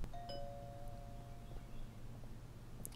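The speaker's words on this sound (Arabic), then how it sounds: "خلاص يا بوي دق الجرس" A house doorbell in the American Thief video game gives a single clean electronic chime that sustains briefly and fades, heard faintly over a quiet low background hum.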